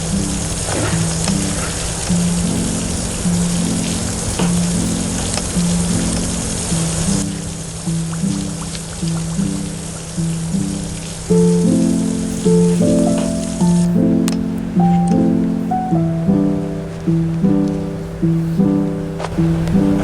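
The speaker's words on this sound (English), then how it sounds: "I'm gonna take a shower." Shower water running steadily, a dense close hiss of spray that keeps up throughout with a clear tonal melody layered over it.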